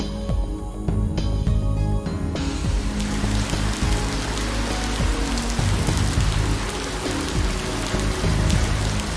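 Heavy rain pours steadily in the Densha de D train racing game, a loud, dense, continuous hiss of drops on surfaces that swells in after the first couple of seconds, with no voices over it.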